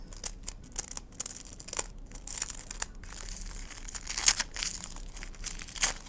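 Close crinkling and tearing of a thin paper surprise packet being opened, with irregular rustles and sharp rips over several seconds and no talking.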